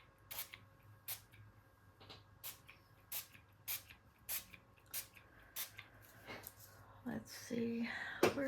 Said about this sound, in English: I wonder what would happen if I sprayed ink everywhere